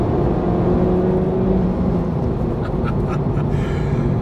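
A Honda Civic Type R FK8 engine running in R mode, a loud, steady, close engine drone with a constant rumble throughout.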